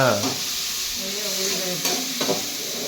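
Onions fry in oil in a pan, a steady close sizzle with a few brisk stirring scrapes, over a short stretch.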